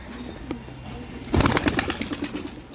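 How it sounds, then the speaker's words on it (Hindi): Pigeons on a rooftop loft, an old prized bird among them, give soft low coos, then a sudden burst of wing flapping from about the middle of the clip, with rapid close beats and rustling continuing to the end. "ये हमारा सबसे नायाब और पुराना कबूतर है।"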